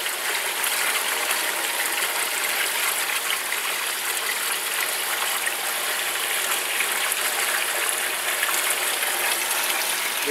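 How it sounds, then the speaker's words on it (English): Steady rushing water drains through a valve into a sump in a weir flow apparatus, pouring and gushing continuously without pause, a broad even wash of flow close by, with no voices. "you will have to lift the drain valve and let the water go into the sump."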